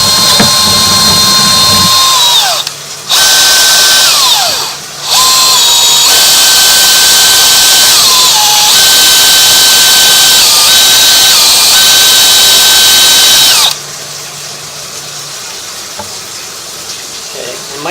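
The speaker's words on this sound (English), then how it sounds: "activate the chain knockers here to get these spinning, see if this rips them all out" A sewer chain knocker spins inside a pipe with water running to tear out roots, giving a loud, steady mechanical whine over rushing water that briefly cuts out twice, then drops to a quieter hum near the end.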